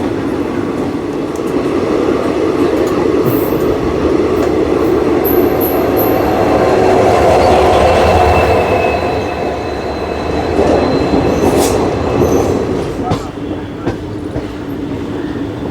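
The Salasar Express runs through the Rajasthan desert while overtaking the Bhopal-Jodhpur train, giving a loud, continuous rumble of wheels and carriages with clicking rail joints and brief squeals, heard up close from on board.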